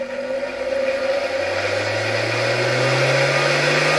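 A steady motor whine from a 1964 Gamma II vacuum cleaner drones continuously, with a low hum that slowly rises in pitch as the machine spins up, loud and close.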